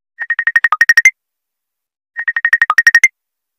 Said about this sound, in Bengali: খালি ফোন আসা শুরু আছে